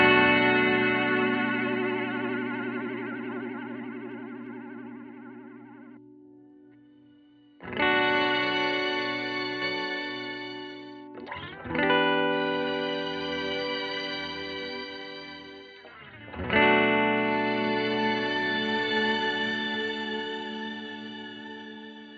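Sustained guitar chords wash through an EarthQuaker Astral Destiny reverb pedal on its Abyss setting, with shimmering, modulated swells and long tails. Several strummed chords ring in turn, each decaying slowly before the next.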